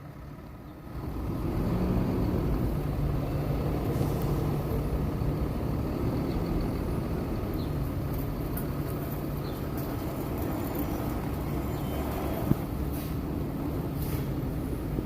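A rolloff truck rolls slowly forward out toward the street, a steady low engine rumble holding level throughout with a brief sharp click near the end.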